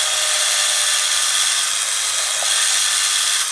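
Power drill boring steadily into the body of a Fender Telecaster guitar, a loud continuous high whine held for several seconds with no pauses and no talking.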